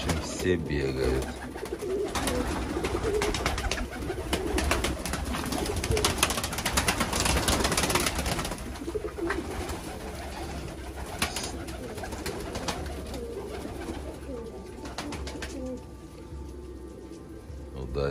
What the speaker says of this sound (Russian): давайте кайфуем от голубей